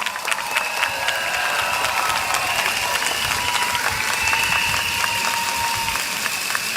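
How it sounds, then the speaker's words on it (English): A crowd at a PAP political rally in Singapore applauds warmly, a dense, sustained patter of clapping that stays loud and even throughout, with no speech over it. "A warm round of applause."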